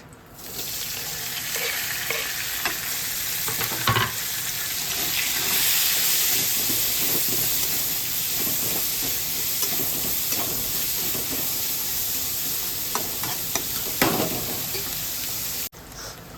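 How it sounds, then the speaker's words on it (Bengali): A continuous sizzle of onions and green chillies frying in hot oil, close and steady, with occasional clinks of stirring; no talking. "পেঁয়াজটা ভাজা ভাজা হয়ে গেছে"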